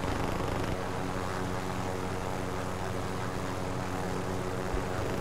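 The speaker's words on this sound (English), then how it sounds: "I'm gonna drop this helicopter on him" Helicopter in the Call of Duty Warzone video game, a steady droning rotor and engine hum holding at moderate level throughout, with no pauses.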